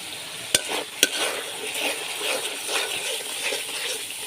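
Spices being stirred as they fry in a pan for a potol and prawn curry, a steady soft sizzle with scraping stirs and two sharp utensil taps near the start, no talking.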